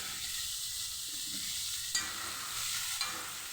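Bitter gourd sizzles steadily in hot oil with turmeric, cumin, coriander and red chilli powders, a dense, close hiss broken by two sharp stirring knocks against the pan.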